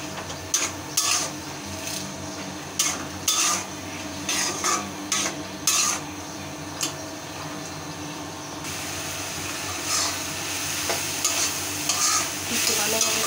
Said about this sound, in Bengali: ডালটাকে ভালোভাবে কষাই